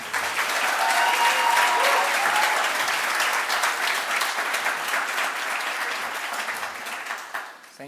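An audience at a graduation ceremony applauds to welcome a speaker: sustained, dense clapping from a large crowd that slowly thins and fades out at the end.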